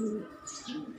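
Soft, low pigeon cooing, a couple of short murmuring calls close by in a quiet setting.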